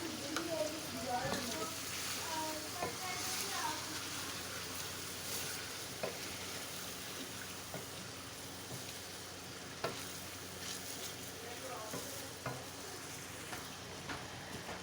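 Chicken frying with yogurt for degi biryani, a dense, steady sizzle close up with frequent stirring scrapes and small clatters throughout.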